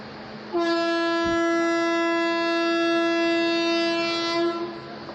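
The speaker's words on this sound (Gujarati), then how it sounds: "હોંકિંગ થયું એટલે હવે ટ્રેન ઉપડશે" A train horn sounding before departure from Bhachau station, one long, loud, steady blast of about four seconds, close by over faint background noise.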